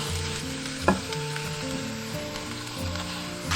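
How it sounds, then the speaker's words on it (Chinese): Fresh abalone and chicken pieces land on sliced onions in a preheated clay pot, setting off a steady, close sizzle and frying crackle with a brief clatter near the start. "砂锅预热好过后铺上洋葱，倒入鲜鲍鸡块"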